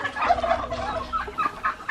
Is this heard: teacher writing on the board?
no